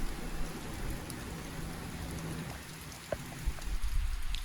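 Steady rain pours down outside a house under a roof overhang, a dense continuous hiss with a few louder drips and splashes near the end, no voices.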